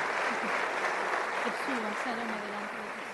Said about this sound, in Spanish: pido un aplauso al Señor por ellos